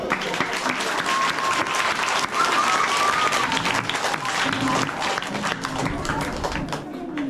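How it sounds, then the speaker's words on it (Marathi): An audience gives a loud round of applause for volunteers at a school-access charity event, dense crisp clapping sustained for several seconds, close and energetic, easing slightly near the end. "तर त्यांच्यासाठी एकदा टाळ्या होऊ द्या."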